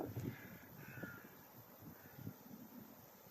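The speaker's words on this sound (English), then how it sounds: "A few crows out there." Crows caw over a marsh on an RSPB reserve, a few faint, distant calls over soft outdoor background noise, with no one speaking.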